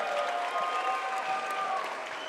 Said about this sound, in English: a round of applause for both warriors in this matchup